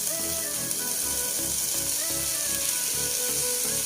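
Githeri sizzling and frying in a pan with onions, a steady bright crackle of hot oil running continuously and close, with faint kitchen clatter underneath.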